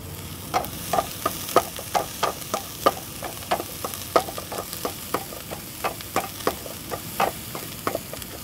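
Onions and green chili frying in a pan for pork sisig, sautéed until golden brown: steady sizzling under repeated sharp scrapes and taps of a spatula stirring at an even rhythm, close and clear.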